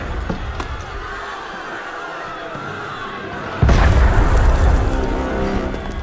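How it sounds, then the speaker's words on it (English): A few sharp booms ring out, then a heavy sustained rumble surges in and rolls on loudly, cannon fire in an Assassin's Creed game set in the French Revolution. "That was cannon fire."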